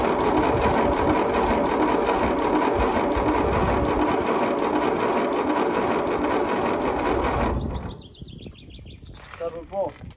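Ferguson TE20 tractor engine cranked by the starter without catching, a loud, continuous rough churning for about seven and a half seconds that cuts off abruptly, leaving quiet background with faint birdsong.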